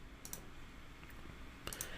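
Computer mouse clicks during a software setup on a computer, a few sharp, faint clicks in a quiet room, spaced irregularly.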